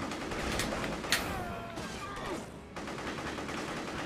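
Gunfire in the video game Psi Ops: The Mindgate Conspiracy, a continuous stream of rapid shots and clatter at a moderate level with one sharper crack near the start, mixed with game effects.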